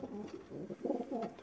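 Pigeons coo softly in low, throaty murmurs, a few overlapping calls close by and fairly quiet.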